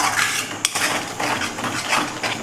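Vegetables with salt are mixed in a pan using a metal spoon, producing close scraping and clinking against the pan with one sharp knock, no talk.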